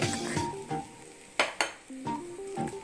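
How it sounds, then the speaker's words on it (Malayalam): Chicken masala with coriander and chilli powders sautéing in oil for a Kerala roasted-coconut chicken curry, a steady sizzle broken by spoon scrapes and metallic clinks against the pan. "എല്ലാം കൂടി നല്ല പോലെ ഒന്ന് വഴറ്റി കൊടുക്കണം"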